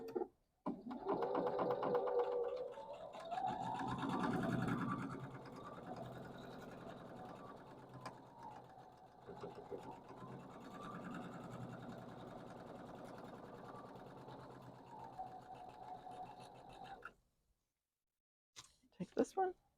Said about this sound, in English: I'm going to sew on both sides of the marked line.